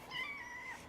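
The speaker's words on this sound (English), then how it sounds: "now I got a precious cat in my lap" A pet cat gives a single short meow, close and fairly soft, with no other sound.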